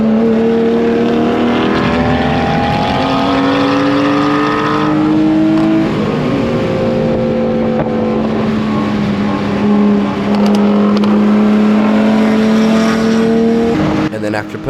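A race car on a lap at a NASA Summer Sizzle time trial track event, its engine loud and close throughout, droning steadily with pitch climbing and dropping through gear changes over the whole stretch.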